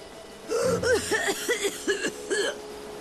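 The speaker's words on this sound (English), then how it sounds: "That cough. You can't keep going on like this." A raspy voice in Lightning Returns: Final Fantasy XIII breaks into a fit of several hacking coughs, rhythmic and close, one after another.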